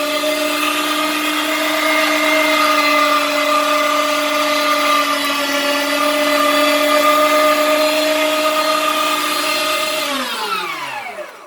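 A loud kitchen grinder churning pieces of chicken meat, with a steady high motor whine that holds for about ten seconds before spinning down as it switches off.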